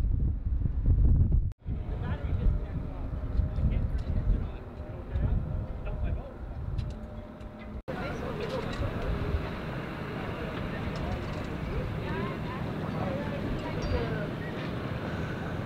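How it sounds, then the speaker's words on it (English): Gusty wind buffets the microphone beside a catamaran and dinghy on the water, a steady broad roar that thickens in the second half, with people talking over it. "there's a gust coming as well"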